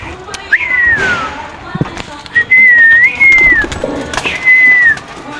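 Pigeons being released give several whistly, drawn-out calls across a few seconds. A person speaks and other voices are heard in the background.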